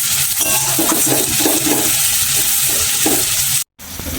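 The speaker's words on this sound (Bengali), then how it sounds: "ক্যাপসিকামটা ভাজা হোক, ওইগুলো একসাথে ভাজা হোক" Capsicum sizzling in a hot frying pan while being cooked for momo filling, a continuous close frying hiss with occasional stirring scrapes, ending in a brief cut of silence.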